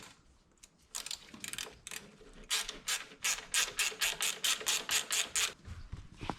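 A wrench works a bolt loose from the intake manifold of a Subaru STI, giving a quick run of rhythmic ratcheting clicks, close and fairly loud, after a few scattered scrapes, no talking.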